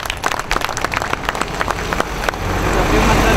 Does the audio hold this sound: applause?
yes